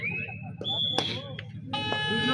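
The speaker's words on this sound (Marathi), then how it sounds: "इकडे देखील भोंगा वाजतोय" An air horn blares at an open-category village kabaddi tournament semi-final in a loud, sustained tone that breaks off and returns in a harmonically rich blast, under an excited commentator.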